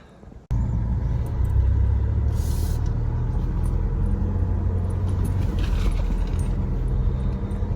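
A camping truck starts rolling toward a spot in the trees, a loud, close engine rumble kicking in abruptly and holding steady, with a few light rattles and no talking.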